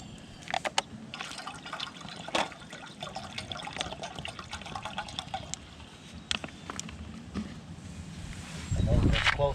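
About 32 ounces of liquid is poured into a pot for a Chef Corso recipe, making a running, splashing stream with a few clinks. It grows louder and fuller near the end.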